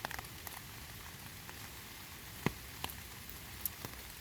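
Steady curtain of rain falling near a cave entrance, a continuous broadband hiss with a few sharper drips and splashes standing out, fairly quiet and heard alone.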